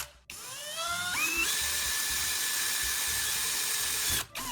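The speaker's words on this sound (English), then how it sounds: "Use a drill to make a clean opening just big enough for the two prongs to slide through." An electric drill boring a hole in a box whines steadily for several seconds, its pitch rising as it spins up, then cuts off abruptly near the end.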